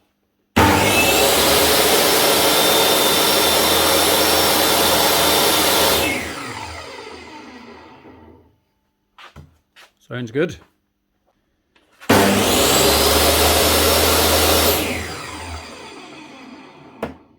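A repaired Dewalt DWE7492 10-inch table saw motor roars steadily for several seconds, winds down, then starts up again loud and close; a brief spoken remark comes between runs.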